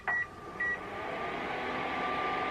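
A kitchen stove gives two short, clear electronic beeps as it is switched on with nothing on it. A steady low hum follows and continues to the end.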